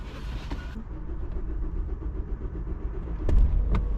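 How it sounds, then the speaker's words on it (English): A Ford car's engine cranks for a long stretch, a low rhythmic churning of the starter turning over, before a louder surge near the end as it catches. "That was a long crank"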